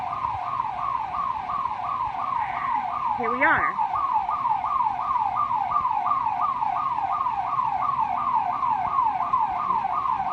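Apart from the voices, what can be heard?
alarm siren going off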